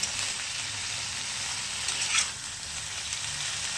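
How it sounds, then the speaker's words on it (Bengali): Paneer pieces frying in butter give off a steady, close sizzle with a brief swell of crackle near the middle, and no one speaks. "জাস্ট একটু হালকা করে বাটার দিয়ে আমি এটাকে ভেজে নেব।"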